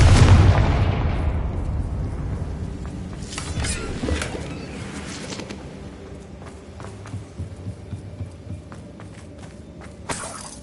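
A Confringo blasting spell from a Harry Potter video game goes off with a loud, deep explosion at the start, its boom decaying slowly into rumble, with scattered smaller crackles and impacts afterward.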